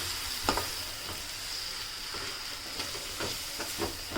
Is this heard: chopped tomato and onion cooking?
yes